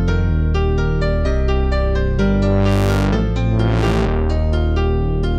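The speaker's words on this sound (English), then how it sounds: "So I've got this Moog intro bass." Moog synthesizer bass line from the intro of a song, punchy repeated notes in a steady rhythm with two swelling sweeps near the end, loud and isolated.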